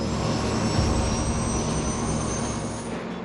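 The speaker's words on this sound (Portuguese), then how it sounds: "O avião decola em menos de 3 minutos depois de começar a taxiar." Airliner jet engines roar at full power during a takeoff roll: a loud, steady, broad rumble with a thin high whine running through it, sustained for the whole stretch and easing slightly at the end.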